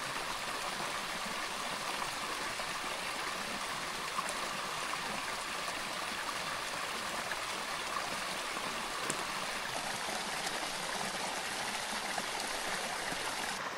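Cold stream water flows and gurgles steadily as a person wades in, a continuous close rushing and trickling wash with faint sloshing, no talk.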